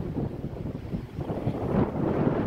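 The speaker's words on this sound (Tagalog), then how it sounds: "Sarap ng simoy ng hangin." Steady outdoor wind in Greece rushing and buffeting across the whole stretch, a low broadband roar with gusts swelling louder toward the end; no voices.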